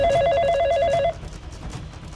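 A telephone rings in a tonal burst for about a second, then cuts off, leaving quiet room noise.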